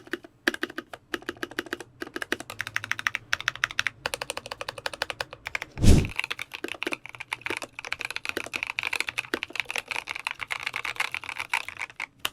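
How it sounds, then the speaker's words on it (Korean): Close, steady typing on a VARO V68 mechanical keyboard with Cocoa Brown switches, a rapid stream of clicky keystrokes with one heavier thump midway, no voices. "이 키보드는 코코아 갈축이에요."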